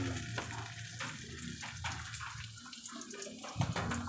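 Eggplant omelette, tortang talong, frying in a pan: a steady, close crackling sizzle runs throughout with a few louder pops and stirs, and no one talks.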